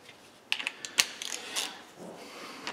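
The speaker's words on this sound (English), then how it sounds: "we're going to take the torque wrench and see if that's where it puts us" A torque wrench works on a Chevrolet front differential being set up with reused old gears, giving a few sharp, light metallic clicks and ratchet ticks scattered over a quiet background.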